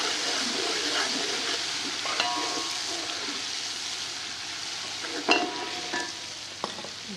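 Rice roasting in a pan for aloo tahari, a potato and rice pulao, gives a steady broadband sizzle with scattered scrapes and clinks of a stirring spoon, close and continuous, with no voices.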